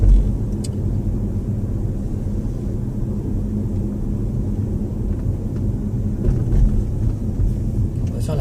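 A Tesla, a large car about five metres long and 2.18 metres wide, takes a very tight right-angle turn in Soissons, giving a low steady road rumble with faint tire and body noise throughout.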